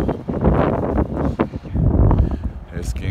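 Cold outdoor wind at a car lot or salvage yard buffets the microphone in a constant loud roar, with a voice partly buried beneath it.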